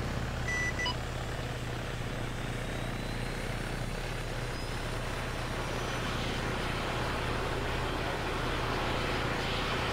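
A military aircraft rolls for takeoff on runway 21 during a simulated operation, its steady engine roar loud and continuous from start to finish, with a short electronic beep near the beginning.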